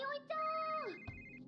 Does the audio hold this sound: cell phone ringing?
yes